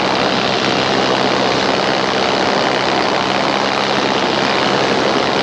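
A paramotor's engine and propeller drone steadily in flight, a loud, continuous buzzing roar with no break and no voices.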